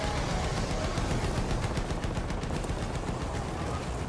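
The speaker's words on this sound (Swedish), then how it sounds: "Jag kom på en rätt bra taktik med sniper. Att man skjuter ett skott med den här först." Continuous rapid gunfire from a video game, sniper and pistol shots blending into a dense, steady barrage of cracks with no pauses.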